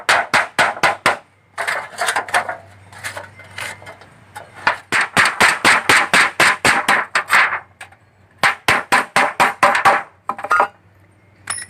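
Holes being punched row by row into metal to make a homemade coconut grater, a loud series of sharp, rapid metallic hammer strikes in quick bursts separated by short pauses, close up.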